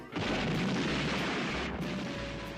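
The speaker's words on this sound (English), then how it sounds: "Kung Fu is no match for an M320 grenade launcher" An M320 grenade launcher firing in a movie, heard as a loud, close blast that rolls into a sustained rumbling roar and slowly fades, alone with no talk.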